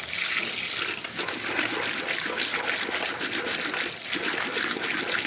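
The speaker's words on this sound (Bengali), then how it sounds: "এখন মাছগুলোকে ধুয়ে নিব।" Small fish being washed in a basket under water, with continuous splashing, trickling and sloshing as the fish are rinsed and stirred by hand, close and steady throughout with no talk.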